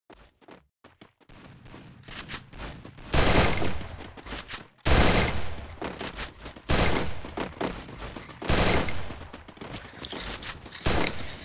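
Bursts of rapid video game gunfire crackle repeatedly in sharp, loud volleys, with short pauses between them and footsteps faintly in the background.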